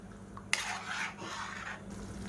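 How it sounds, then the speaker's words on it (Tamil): A spoon stirs horse gram sambar in a cooking pot, giving a soft, continuous scraping and sloshing that opens with a sharp clink and carries on steadily, with no talking. "அடிக்கடி நல்லா கிளறி விட்டுக்கோங்க"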